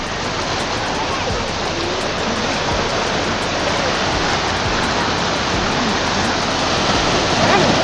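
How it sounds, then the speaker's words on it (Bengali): Rough Arabian Sea surf crashes onto the shore in a dense, unbroken roar of breaking waves, loud and close, with wind-like noise throughout. "আর ঢেউর গর্জন আশা করি এবার শুনতে পাচ্ছেন"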